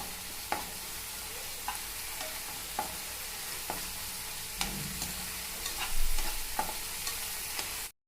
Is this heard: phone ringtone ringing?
no